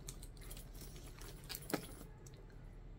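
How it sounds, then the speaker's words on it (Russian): Metal keys jangle softly in a quiet room, a scatter of light clinking rattles with one brighter jingle near the middle, faint and with no voices. "он, видимо, ключами звенят"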